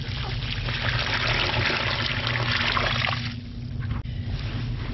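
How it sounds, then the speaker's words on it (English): A 4-gallon bucket of water pours into a compost worm bin in a loud, steady, splashing rush that tapers to a trickle near the end. "Now we're going to add the 4-gallon bucket of water"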